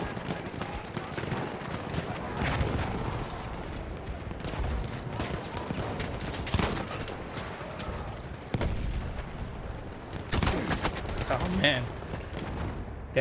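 Heavy machine gun fire and surrounding gunfire and explosions in Battlefield 1 trench combat, rapid bursts and booms throughout, with a player talking over the battle noise.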